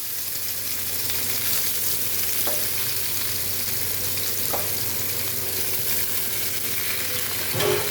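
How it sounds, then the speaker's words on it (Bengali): Bitter gourd and potato frying in hot mustard oil in a frying pan, a continuous close sizzle broken by a few faint clicks from the pan. "এখানে ফ্রাই প্যানে সরষের তেলটা গরম হয়ে গেছে, তো এখানে আমি উচ্ছেগুলো দিয়ে দিচ্ছি ভাজার জন্য।"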